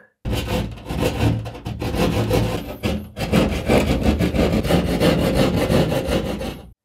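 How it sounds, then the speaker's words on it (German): A small hand saw cuts through drywall in quick, rough back-and-forth strokes, loud and close, with a brief pause midway before the rasping resumes. "am besten mal mit einer kleinen Säge von der Mitte aus zu unseren vier Ecken hin sägen"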